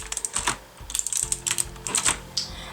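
Keys on a Logitech G710 mechanical keyboard are typed in quick, irregular bursts, each keystroke a sharp close clack, with no voices.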